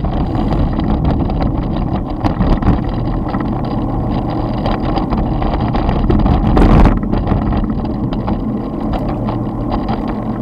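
Voi electric scooter ridden over a bumpy, potholed UK road, a steady loud rumble of rattling and jolting with wind buffeting the microphone throughout, plus a brief louder burst of noise near the end.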